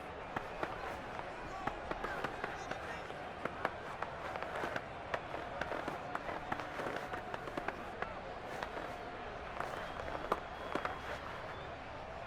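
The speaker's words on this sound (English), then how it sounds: "How about some applause for the defense there?" A stadium crowd in Madden 22 applauds and cheers continuously for the defense during a Dolphins vs Eagles game, sharp claps popping over a steady roar that holds at an even level throughout.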